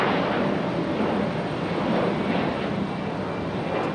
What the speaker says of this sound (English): On departure, that CRJ turning straight up.